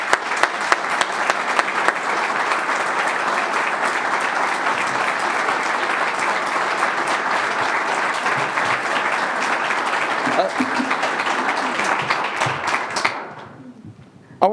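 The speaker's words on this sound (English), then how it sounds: "I want to give these guys a round of applause." A crowd at a football coach's introductory press conference applauds the team's players, giving sustained, dense clapping for about thirteen seconds before it fades out.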